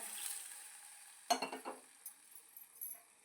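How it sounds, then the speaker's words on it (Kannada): A ladle stirs and mixes hotel-style rasam in a metal pot, with a quick run of soft clinks and scrapes against the pot, faint and close, with no talking. "ಒಂದ್ಸತಿ ಚೆನ್ನಾಗಿ ಈ ಥರ ಮಿಕ್ಸ್ ಮಾಡ್ಕೊಳ್ಳೋಣ"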